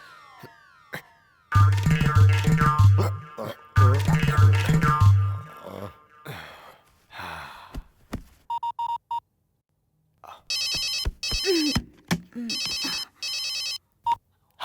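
A telephone rings late at night in a Hindi-dubbed action film scene, its electronic ringtone pulsing in short repeated bursts after a stretch of dramatic music and voices.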